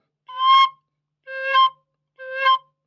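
Three short, soft, breathy notes on a Thai bamboo flute played with light breath, evenly spaced and played alone, each swelling slightly before stopping.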